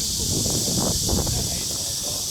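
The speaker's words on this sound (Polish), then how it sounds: "jedna cykada daje taki dźwięk jak helikopter, jak wirnik helikoptera" A dense, loud high-pitched cicada drone fills the air continuously, with a muffled voice talking faintly underneath.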